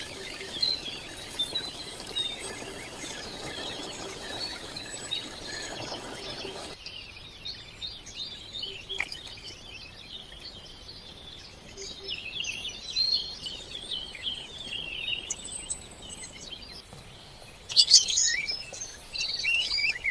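Chirps and tweets of birds scattered through a quiet forest ambience, faint and distant at first, growing a little busier and closer near the end.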